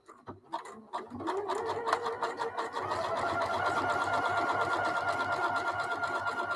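A sewing machine starts with a few uneven stuttering stitches, then runs fast and steady sewing a zigzag basting stitch, a dense close rattling whir that holds level to the end.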